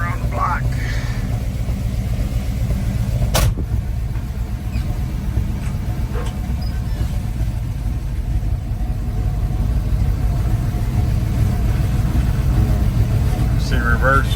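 A 1982 GMC K1500 pickup truck engine runs with a steady low rumble throughout, a continuous idling drone with brief clicks and knocks on top.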